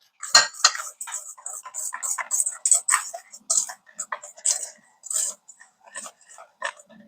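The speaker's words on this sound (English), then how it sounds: "I'm going to whisk those together," A whisk clinks rapidly against a bowl while dry lemon bar ingredients and flour are mixed, producing bright, irregular metallic taps and scrapes, close and fairly loud.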